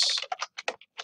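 Quick bursts of keystrokes clatter on a computer keyboard while entering a spreadsheet formula, short irregular clicks separated by brief pauses.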